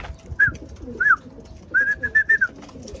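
Pigeons coo in a handful of short calls, a few spaced apart and then a quicker run of several, close by over low rustling background with no talking.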